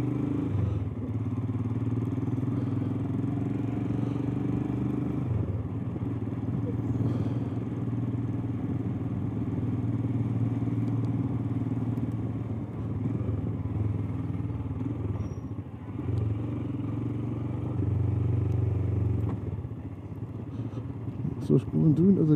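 A Royal Enfield Himalayan motorcycle rides on local roads, its engine droning steadily at a low pitch with slight rises and dips throughout. A voice talks over it.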